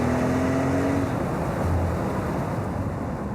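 A car in sport mode with the accelerator floored, its engine note a loud, steady drone that rises slightly, mixed with heavy rushing wind and road roar throughout.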